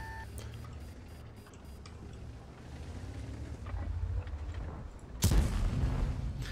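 Tank cannon fire in the World of Tanks video game: faint background rumble and clicks build to one sharp, loud boom near the end, followed by a rumbling tail.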